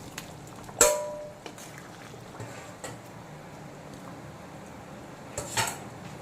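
Fried potatoes dropped into simmering mutton curry in a pot, with a sharp clatter of a utensil against metal, a few lighter clinks and taps, and a soft bubbling background.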